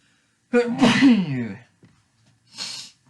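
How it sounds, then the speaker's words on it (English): One close, loud sneeze with a sharp intake and a burst, followed by a short breathy exhale a second later. "I'm going to sneeze."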